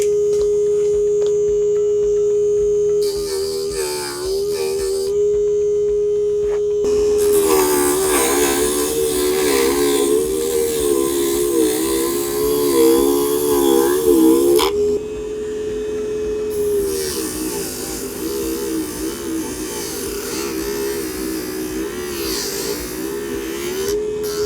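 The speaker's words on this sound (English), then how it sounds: "now I'm able to use the sander here and finish the cleanup of the remaining." A small electric sander whines in a workshop while cleaning up balsa wood pieces for a glider, a steady high tone that bogs and roughens under load for stretches, with a vacuum-like rush in between, close and loud.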